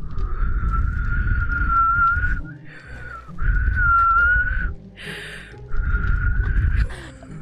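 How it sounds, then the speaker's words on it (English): A person whistles three long sustained tones with a slight warble, separated by short pauses, loud and close, with faint noise and brief voice-like sounds in the gaps. "And here's my whistling."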